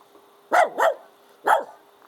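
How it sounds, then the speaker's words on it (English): Three sharp dog barks, two in quick succession and then one more after a short pause, fairly close against a quiet background. "you're just barking because we're not with you"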